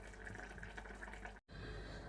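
Water streams steadily into a pot of pilau rice set to soak, a close, continuous splashing pour with a very brief gap near the end.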